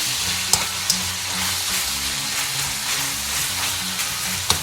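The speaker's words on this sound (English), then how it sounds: "just browning the meat" Beef steak pieces for bistek tagalog sizzling and browning in a hot pan over high heat, a steady loud fry with a few sharp spatula clicks and stirring knocks.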